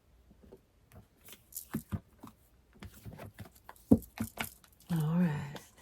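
Tarot cards are shuffled in quick papery bursts and riffles, with short gaps between them, followed by a brief voiced sound at the end.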